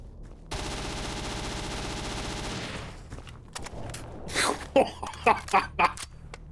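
Sustained rapid automatic gunfire rattles from a weapon in the S.T.A.L.K.E.R. Anomaly game, a dense continuous burst lasting a few seconds, then a string of separate sharp shots and clatter follows as it tails off.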